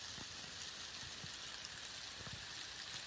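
Light rain falls steadily as a soft, continuous hiss, with occasional faint drops and patters standing out. Nobody speaks.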